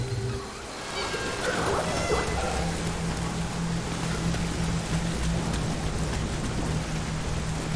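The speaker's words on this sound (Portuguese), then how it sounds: "Chuva. É pesada mesmo." Heavy rain falls steadily in the video game Nioh, a dense continuous patter that sounds close and fairly loud. A low rumble lies beneath it, and a brief other sound shows near the start.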